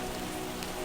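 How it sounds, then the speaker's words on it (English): Freezing rain falling outside, a dense, even patter of drops on surfaces forming a soft continuous hiss, with no voices over it. "Outside, the freezing rain continues to fall"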